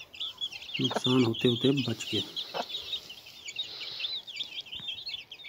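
An Aseel hen clucks repeatedly, close by, with other birds chirping in the background and a person speaking briefly.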